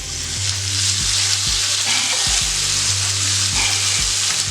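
Sausage sizzles with half-cooked potatoes in a breakfast skillet casserole, a steady close-up frying hiss broken by regular scraping knocks from a spatula stirring the pan.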